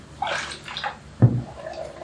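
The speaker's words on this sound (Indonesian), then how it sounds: "Nah, dia naik, larutannya naik, netes ke sini, terjadi reaksi." A citric acid and baking soda solution drips inside a ZRDR/WYIN CO2 kit. A few small, close watery drips and splashes fall at irregular intervals, with a sharper plop near the middle.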